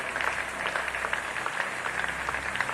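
Church congregation applauding and cheering for the Lord, a steady dense wash of clapping and crowd noise sustained throughout at moderate level.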